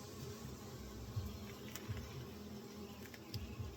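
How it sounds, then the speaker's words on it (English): Honeybees buzzing around an open greenhouse hive frame during a hive check, a soft continuous low hum close by with faint scattered ticks and no talking. "there are a lot of bees on it"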